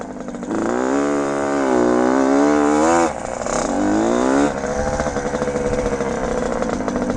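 A 1974 Suzuki TM125L Challenger motocross motorcycle engine roars close by, revving up and down in loud, rasping two-stroke bursts that fill the whole clip.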